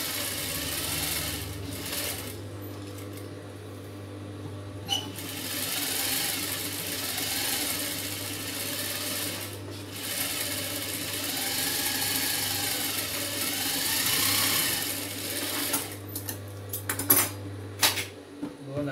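A tailor's sewing machine stitches the lining of a blouse, giving a long, steady low motor hum with light mechanical clatter that turns into a few sharp knocks and clicks near the end.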